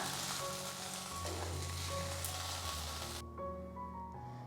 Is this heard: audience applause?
no